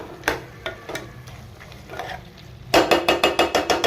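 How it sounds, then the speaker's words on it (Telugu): A spoon stirs ginger-garlic paste into mutton curry in a hot pan, giving scattered scraping strokes over a soft sizzle, then a brisk run of regular, louder scrapes near the end. "అల్లం వెల్లిగడ్డ వేసిన తర్వాత ఒకసారి తిప్పుకోవాలి మొత్తం"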